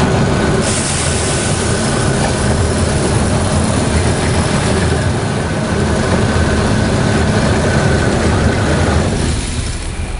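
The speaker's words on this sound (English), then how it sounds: "We're going to start the calibration by engaging the motor." The calibration motor of a Bourgault 6000 Series air seeder runs steadily, a loud continuous mechanical rumble and rattle throughout with no pauses.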